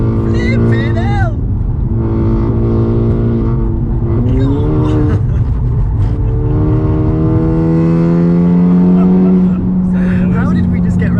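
A loud Audi S3 saloon engine drones steadily with rising and falling revs as the car corners hard, close and continuous beneath people talking inside the cabin.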